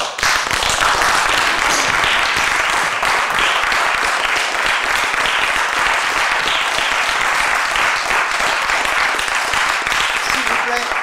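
A theatre audience applauds steadily and loudly, dense clapping from many hands filling the hall without a break, with a few voices mixed in.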